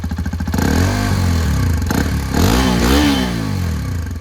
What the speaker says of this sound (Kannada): ಇಂಜಿನ್ ಸೌಂಡ್ ತೋರಿಸ್ತೀನಿ